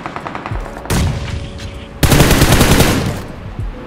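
Loud bursts of rapid automatic gunfire from the mobile battle royale game BGMI, played on an iPhone 11 in a competitive end-zone match, come in two long volleys with shorter single shots and clicks between them.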